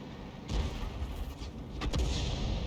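An M53/M55 self-propelled gun in a tank video game fires a round at a Type 4 tank, giving two heavy booming thuds over a steady low engine rumble.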